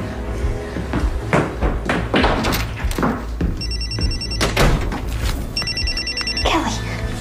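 A house telephone rings in two short electronic bursts amid a busy indoor scene of thumps and movement, close and clearly audible over the background.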